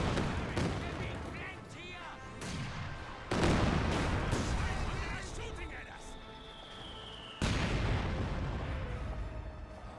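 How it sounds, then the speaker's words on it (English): Katyusha rocket barrage in the World War II strategy game Company of Heroes 2, a series of heavy booming blasts and rushing impacts in several loud waves with rumbling gunfire between, under continuous talk. "here Katusha Barrage running on in"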